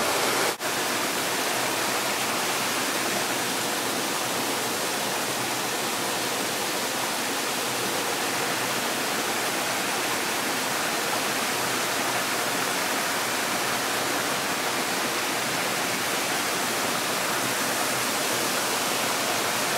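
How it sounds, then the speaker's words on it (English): A camping stove running low on its gas canister burns at a simmer with a steady, unbroken hiss that stays even and fairly loud throughout, close by and with no talking. "I've not got much gas in that canister. We really are simmering at the moment."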